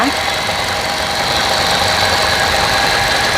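A Toyota Corolla Altis idling with the engine running, a steady loud hum and rattle that stays even throughout, close by, with some faint talk mixed in.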